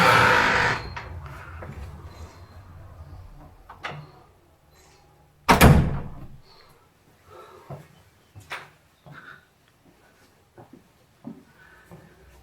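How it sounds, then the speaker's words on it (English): The heavy door of Grantchester Church near Cambridge swings shut with one loud, resonant thud, preceded by a scrape and followed by a few quieter knocks and shuffling noises in the quiet interior. "Shut the door."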